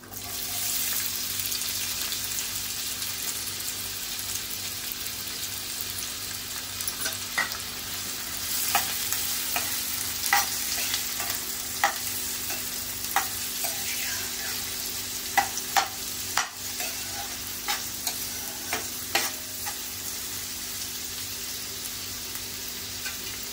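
Onion and cumin frying in hot oil for a whole masoor masala, a continuous loud sizzle with repeated scraping stirs and spoon clicks throughout, no voices.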